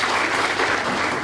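A brief burst of dense, continuous applause from a crowd of guests at a 40th birthday celebration, loud and sustained with no talking over it.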